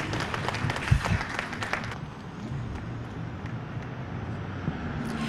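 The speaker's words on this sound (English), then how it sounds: "which I think deserves a round of applause." A round of applause at an outdoor one-year anniversary event for pallet shelter operations, scattered clapping from a small crowd over light wind and distant traffic, louder at first and thinning out.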